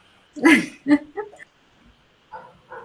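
A dog lets out a few short, close barks and yips in a quick burst, then pauses before two softer yelps.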